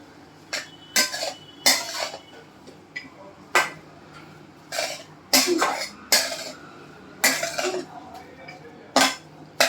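Khoa is stirred and sautéed in a pan for carrot halwa, with a spatula clinking and scraping against the metal in irregular, fairly close strikes, about a dozen over several seconds.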